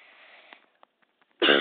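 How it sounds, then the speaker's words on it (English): A single short, harsh cough bursts out at the end after a stretch of near silence and faint breathy noise, over stock car racing video game play. "That was me coughing."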